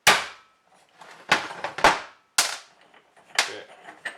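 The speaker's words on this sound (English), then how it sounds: "Let's grab a hammer." Sharp metallic hammer strikes on a stuck power steering pump pulley of a small block Ford ring out at an uneven pace, about seven close, loud blows with brief pauses between them.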